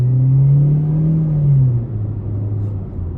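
A 2021 Chevy Spark LT Special Edition accelerates at full throttle, its small engine droning loud and steady from inside the cabin, the pitch rising, then dropping at a shift before settling into a lower hum.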